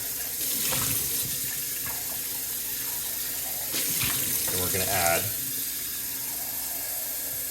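Water runs steadily from a tap into a sink, a continuous splashing rush with someone speaking briefly over it.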